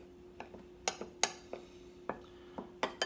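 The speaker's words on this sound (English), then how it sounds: "We'll mix that all up" A spoon clinks and scrapes against a bowl while the ingredients for a homemade date-nut loaf are mixed. The sharp, close clinks come at irregular intervals over a quiet background, with no talking.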